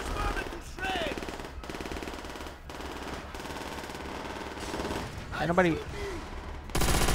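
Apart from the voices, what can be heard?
machine gun fire in video game Call of Duty: World at War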